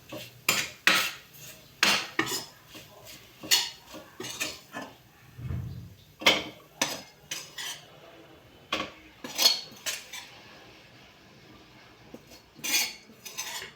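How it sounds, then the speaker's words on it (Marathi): Paneer bhurji is stirred in a pan, with a spoon scraping and clinking against the metal in irregular bursts, close and moderately loud, with brief pauses between strokes. "एक वेळ मिक्स करून टाकू आपण"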